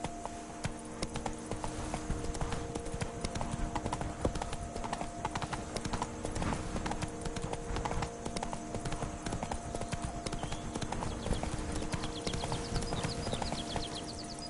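Roach the horse gallops in The Witcher 3, hooves pounding in a fast, even clip-clop that stays close and loud throughout, over a steady ambient bed with little speech.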